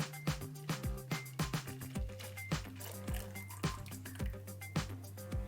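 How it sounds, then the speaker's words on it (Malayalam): Strained melted palm jaggery poured into a pan for wheat halwa, with soft liquid pours, drips and repeated clinks of a utensil in a steady rhythm, close and quiet. "അപ്പോൾ നമുക്ക് അരിച്ചെടുത്ത് ഈ കരിപ്പട്ടി നമുക്കിതിലോട്ട് ഒഴിച്ചു കൊടുക്കാം"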